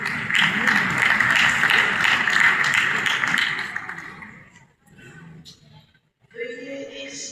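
Audience at a human rights forum applauding a guest, the Senate president: steady crowd clapping for about four seconds under a voice, dying away, then talk resumes.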